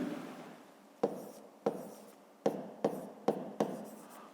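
Pen writing during a fifth-grade math lesson, six sharp scratchy strokes in an irregular rhythm, close and clear over a quiet background.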